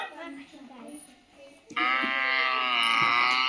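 A loud, sustained cow moo begins partway through and holds to the end, preceded by a quieter, fainter animal call and background noise.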